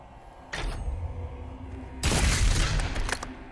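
Super shotgun in the video game Doom Eternal fires two loud, close blasts: a sharp one near the start and a heavier boom about a second and a half later that rumbles and decays slowly.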